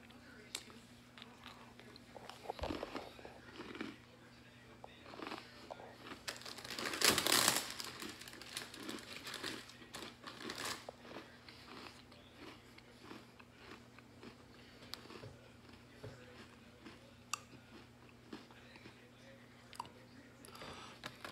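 Quiet crunching and chewing of Easter Oreo cookies with a Peeps-flavored purple filling, soft bites and wrapper crinkles near the mic, one louder crunch partway through, with talk around it.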